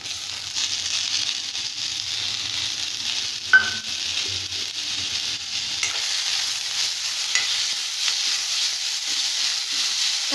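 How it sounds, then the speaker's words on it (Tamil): Onion, green chilli and tomato sautéing in a pan: a soft, steady sizzling hiss with a few light stirring clicks, close by and without voices. "தக்காளி நல்லா வதங்கணும்"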